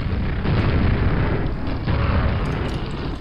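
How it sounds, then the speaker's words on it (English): Continuous heavy booming from grenade explosions in Quake, loud and rumbling with overlapping blasts and no clear gaps. "Why don't the grenades blow each other up when they explode in nearby proximity?"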